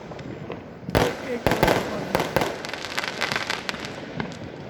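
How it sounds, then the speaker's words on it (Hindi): Diwali firecrackers burst outdoors in a series of sharp, loud bangs and crackles at uneven intervals, with a hissing, popping wash between blasts. "ये देखो पटाखे फूट रहे हैं"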